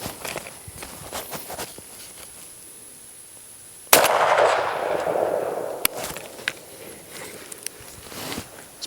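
A Beretta 1301 Tactical LE shotgun fires one loud blast at an outdoor range during a 25-yard pattern test. The shot rings out after scattered light footsteps and clicks, and a lingering echo follows.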